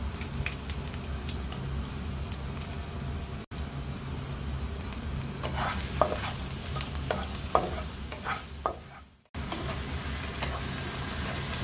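Minced chicken frying in a pan, a steady close sizzle with intermittent scraping stir strokes and clinks, briefly cut off twice.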